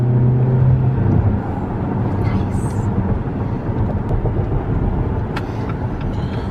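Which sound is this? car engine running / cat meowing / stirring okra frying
car engine running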